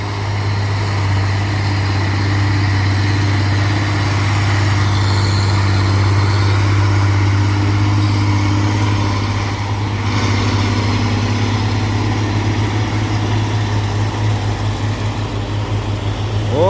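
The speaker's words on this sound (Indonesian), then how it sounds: "Kita doakan saja truk ini kuat nanjak ya teman-teman." A brown Fuso Tronton truck grinds up a steep hill at Bukit Kodok, its engine a loud, sustained low drone that holds steady with a slight rumbling waver, close and continuous.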